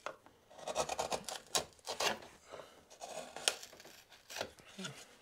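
A woodcarving V-tool cuts through wood in short, rasping scrapes and rubs, several close strokes in an uneven rhythm, fairly quiet.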